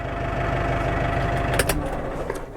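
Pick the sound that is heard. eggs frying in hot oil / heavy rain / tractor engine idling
tractor engine idling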